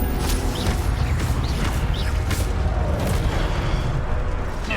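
Hogwarts Legacy combat, with the Incendio fire spell cast in a steady rumble of booming, crackling blasts and impacts that fill the mix, loud and close, with no talk.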